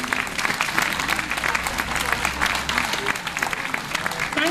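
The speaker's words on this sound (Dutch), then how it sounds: "Groot applaus." At an Irish music festival in Alkmaar, an audience breaks into steady, dense applause after a band's set, a continuous wash of clapping with some crowd murmur and a voice briefly audible.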